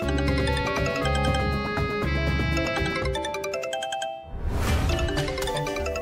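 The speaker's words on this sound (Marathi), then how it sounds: "फोन वाजतोय." A phone rings indoors in a home with a bright, melodic ringtone that repeats loudly for about four seconds, pauses briefly, then starts again.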